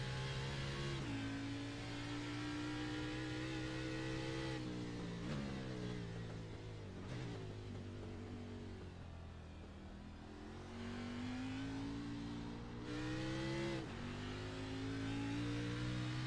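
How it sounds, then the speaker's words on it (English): Racing-game cars on the Circuit de Gilles Villeneuve road course, engines revving hard and continuously, with pitch dropping at downshifts and climbing again as they accelerate, loud and close without talk. "When you hear them downshifting and taking off, you hear the engine da da da da da da."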